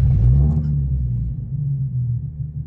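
A Nissan 370Z NISMO with a manual gearbox runs at a steady low idle just after starting, a deep continuous engine rumble with a slight rise at the start, heard close up with no talking.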